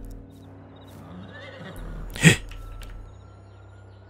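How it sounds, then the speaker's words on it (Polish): A horse in Farming Simulator 22 lets out one short, loud whinny about midway, rising sharply over a low steady background hum. "Rzenie konia."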